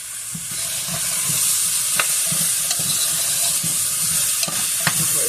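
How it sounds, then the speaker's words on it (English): Three chopped medium potatoes hitting a hot pot for green bean soup, a steady close sizzle with faint periodic stirring scrapes and scattered clicks, no voices. "now let's throw in our potatoes. And this is 3 medium-sized potatoes chopped."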